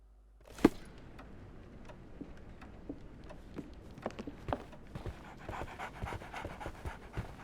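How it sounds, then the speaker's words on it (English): A dog pants steadily and close by in the video game Sherlock Holmes The Awakened, quick rhythmic breaths following one sharp knock, with faint ticking and shuffling steps in the background. "So, Barnes has a dog now."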